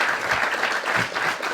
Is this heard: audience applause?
yes